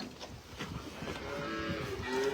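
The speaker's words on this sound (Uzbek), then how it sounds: "Mana bu meni buzoqchalarim. Ana sut ichyapti, qaranglar." Several calves moo in low drawn-out calls while drinking milk, fairly close and steady, with no talk over them.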